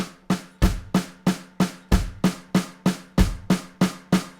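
A drum kit plays single strokes with the hands while both feet keep quarter notes, giving evenly spaced sharp hits in a steady rhythm with thumping low accents, close and clear.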